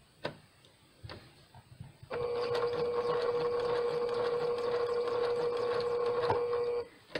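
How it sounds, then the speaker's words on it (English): A sewing machine stitches hexagon coasters made by English paper piecing. It runs in one steady, close, whirring burst of about five seconds, after a few light taps beforehand. "Then I'm going to keep stitching."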